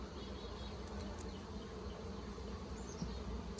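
Honey bees buzzing around a hive frame during a hive inspection, a steady close, dense drone of many wings with no pauses, and no talking.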